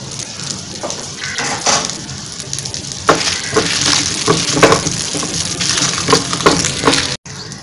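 Onions and chilies sizzling in hot oil in a pan, a continuous crackling fry with repeated sharp stirring scrapes and clinks close by, ending abruptly.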